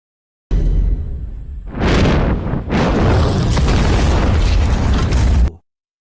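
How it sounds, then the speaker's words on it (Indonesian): A large gas cylinder explodes against a concrete wall in a loud, sustained blast with a rumbling roar and rushing debris, swelling again midway before cutting off abruptly. "Beton yang membentang tinggi tak mampu dirobohkan dengan ledakan tabung gas."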